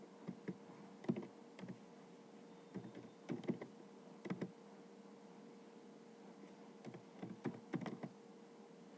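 Sparse, light keystrokes on a computer keyboard, typed in short clusters with pauses between them as fields are filled in during a computer class exercise. The clicks are fairly quiet and close, with no talking.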